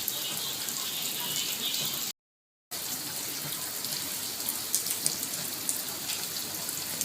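Rain pours steadily outdoors onto mangoes left out in a downpour, a dense, even hiss of falling water with close droplet patter, broken by a brief gap of silence partway through.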